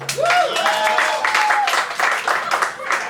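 Stand-up comedy audience in Taiwan applauding and cheering, steady and loud, with a high whistle-like tone sliding through near the start.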